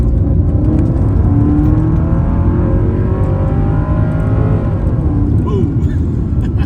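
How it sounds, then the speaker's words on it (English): A Mercedes W211 E55 AMG pulls hard at wide open throttle, its engine note a steady, loud drone of rising harmonics from the cabin, with a brief shift-like dip near the end. "First wide open throttle, guys."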